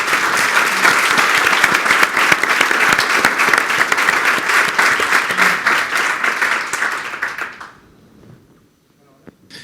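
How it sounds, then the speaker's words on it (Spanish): Audience applause for three panel guests at a morning conference session, sustained dense clapping from a crowd that fades out near the end, followed by quiet. "un aplauso para ellos"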